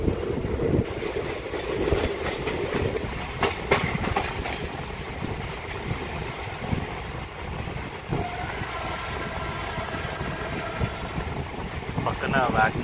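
A DEMU local train pulls away from Polavaram railway station, its diesel rumble and clattering wheels steady and close, with some voices and scattered knocks mixed in.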